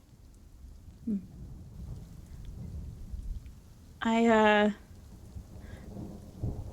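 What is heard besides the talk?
rain and thunder ambience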